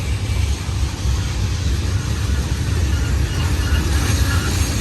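A heavy Union Pacific freight train rolls past close by, a loud, steady rumble and rattle of railcars with no break throughout.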